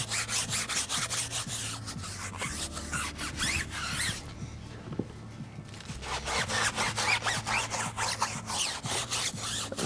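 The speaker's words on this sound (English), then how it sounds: "here is my Detail Factory XL tire brush. I'm gonna give it a couple of sprays. Start scrubbing." A Detail Factory XL tire brush scrubbing a sprayed tire, steady rapid back-and-forth bristle strokes, loud and close, pausing briefly midway before the rhythmic scrubbing resumes.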